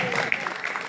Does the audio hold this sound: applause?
yes